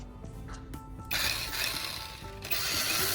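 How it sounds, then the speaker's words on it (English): A bench vise is cranked tight onto a hammerhead, giving a series of close mechanical clicks and ratcheting grinds, with a louder rasping rub surging in bursts. "I secure the hammerhead in a vise and tighten it firmly."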